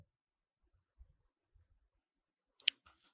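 A few soft computer mouse clicks in a quiet room, sparse and faint at first, then one sharper, louder click followed by a light rattle near the end.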